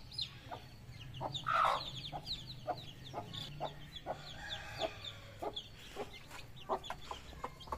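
Hens and chicks clucking and cheeping in a farmyard crate, with repeated short calls scattered throughout at moderate distance, a louder cluck near the start and a faint low hum underneath.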